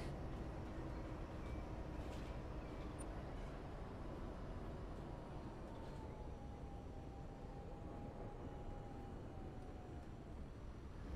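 A tram rolls past in the video game Bus Simulator 21, a faint, steady rumble with a low hum and a slowly shifting tone, heard on its own without talk.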